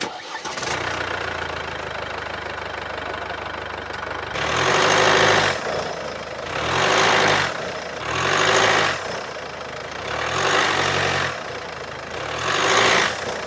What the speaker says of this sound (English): holding the brake as hard as you can, then pushing the accelerator